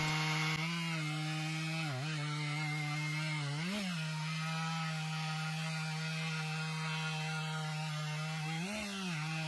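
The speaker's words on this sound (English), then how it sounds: "This was pretty slow going and took a while, about 10 minutes for us to do this first cut." A chainsaw drones steadily near the microphone, its pitch dipping briefly a few times as the blade bites into a log while milling lumber.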